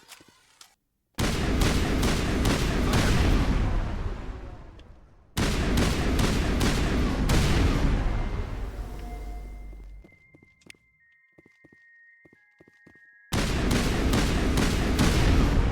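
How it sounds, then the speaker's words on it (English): Sustained assault rifle fire in Mass Effect: Legendary Edition on Xbox Series X, long rapid bursts of loud, evenly spaced shots broken by a quiet gap with faint electronic tones before firing resumes. "Back to the assault rifle."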